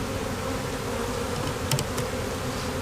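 A honeybee swarm buzzing close and dense in a backyard, a steady thick hum that holds throughout, with a few brief louder buzzes as bees pass near, and no talk.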